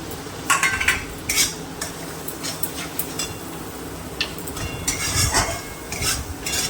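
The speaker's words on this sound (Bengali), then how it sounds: "ভাজা ভাজা হোক, কাঁচা গন্ধটা চলে যাক আদা রসুনের" Onion with ginger-garlic paste frying in a pan while a utensil stirs and scrapes, giving repeated clinking strokes over a low steady sizzle, close and moderately loud with no talking.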